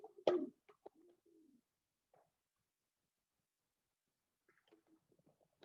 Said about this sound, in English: Please excuse the noisy birds